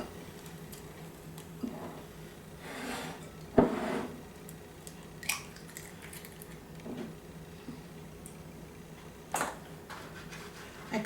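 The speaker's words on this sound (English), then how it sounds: "I always break my eggs one at a time to make sure that the egg is good" Whole eggs cracked one at a time into a bowl for an egg custard, a few sharp taps and soft wet splats spaced through the quiet kitchen, each crack close and brief.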